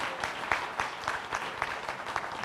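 Sparse audience applause at an awards ceremony, a thin, uneven patter of fairly faint claps with distinct individual hand strikes, continuing for a couple of seconds.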